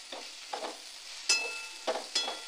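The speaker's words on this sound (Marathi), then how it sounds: "परत एकदा मसाल्याबरोबर परतून घेऊया." Cluster beans and potato stir-fried with masala in oil, a few short scraping stirs and soft sizzling bursts spaced irregularly, close and fairly quiet, no talk.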